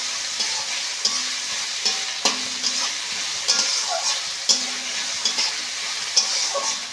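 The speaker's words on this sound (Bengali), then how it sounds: "পেঁয়াজটা একটু বেশ লাল লাল করে ভালো করে ভেজে নিতে হবে" Onions frying and being stirred in a pan while making egg patties, a steady close sizzle broken by repeated scraping stir strokes roughly every second, with no talking.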